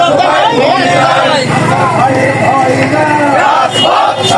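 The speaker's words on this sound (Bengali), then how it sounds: "বিশাল বিক্ষোভ মিছিল" BNP protest march crowd in Kushtia chanting slogans together, loud and close, voices rising and falling in a rhythmic call with constant babble.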